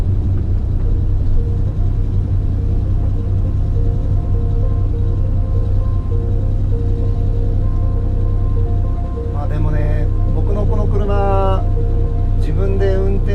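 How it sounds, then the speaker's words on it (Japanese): A Porsche 911 T SC RS in Le Mans spec cruising through quiet Tokyo streets, a constant loud low engine and road drone inside the cabin, with someone speaking over it near the end. "911を走らせることができてます。"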